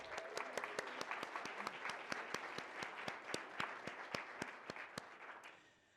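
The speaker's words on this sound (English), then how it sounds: "So a round of applause for that." Sparse, steady clapping from a business audience at a Manchester Chamber of Commerce State of the State forum with the governor, about two claps per second, fairly distant, thinning out toward the end.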